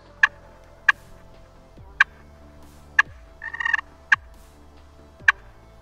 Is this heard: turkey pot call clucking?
yes